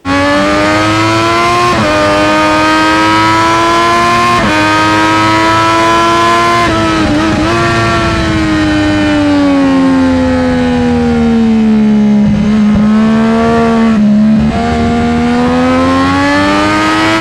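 A sport motorcycle engine with a full race exhaust system holds a loud, steady high-pitched drone, rising and falling gently in pitch with a few quick throttle blips, close and continuous.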